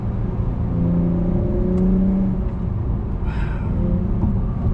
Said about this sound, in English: I love the automatic downshifts from Sport Plus.